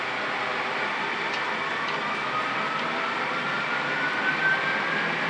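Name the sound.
jet engines spooling up in a Boeing 737 flight simulator takeoff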